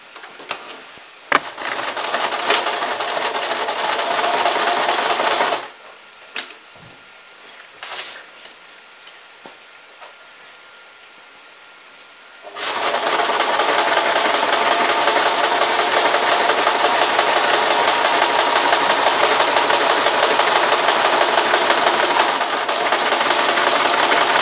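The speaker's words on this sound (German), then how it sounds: "näht das kleine Stück und einmal das lange Stück" A sewing machine runs in steady bursts stitching a fabric Christmas stocking along its short and long seams, with a loud continuous whirring stretch, a quieter pause with small handling noises, then a long sustained run, no talk.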